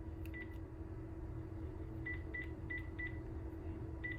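A landline telephone in an office gives a series of short, faint, evenly spaced beeps over a steady low hum.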